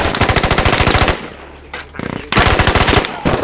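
Rapid automatic gunfire in the military shooter game Squad, loud close bursts of rhythmic shots broken by a short lull, then another sustained burst.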